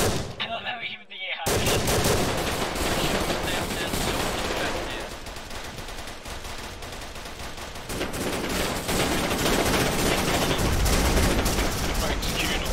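Dense gunfire from the video game Arma 3, set in a Vietnam mission, rattles almost without pause in loud sustained bursts after a brief quiet opening, with faint voices mixed in.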